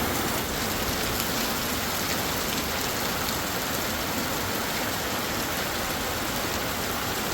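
Heavy rain pours steadily, a dense, continuous hiss of drops drumming on surfaces with no pauses or voices.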